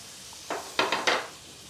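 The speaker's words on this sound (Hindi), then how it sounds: "इस टाइम पर डालना है आधा चम्मच ज़ीरा और ज़ीरे को अच्छे से तड़कने देंगे" Half a spoon of cumin seeds splutters in hot melted butter in a pan, making a few short, sharp crackling bursts in quick succession that stand out against a quiet background.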